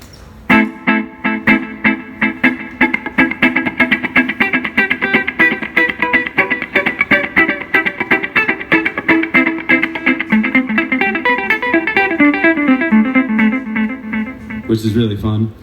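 A guitar through a delay pedal set to dotted-eighth repeats plays a steady rhythmic pattern of plucked notes with echoing repeats cascading in a syncopated pulse. A voice comes in briefly at the end.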